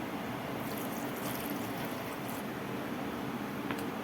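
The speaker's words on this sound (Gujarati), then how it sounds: "હવે રસા પૂરતી આપણે થોડુંક પાણી નાખી દઈશું." Water is poured into a pan of soya chunk curry during cooking, making a faint, steady rushing splash that lasts throughout.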